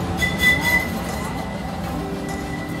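A tram rolling past on its tracks on an Istanbul street, a loud close rumble with faint wheel squeal and metallic tones, steady throughout with a voice faintly present.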